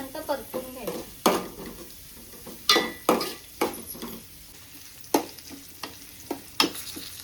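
Onion sautéing in a pan with curry leaves until reddish gives a close sizzle broken by irregular loud scrapes and clinks of a spatula stirring against the pan.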